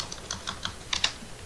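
Keys on a computer keyboard are struck while HTML code is typed, roughly eight light clicks in an uneven rhythm with a quick double tap near the end, close and fairly quiet.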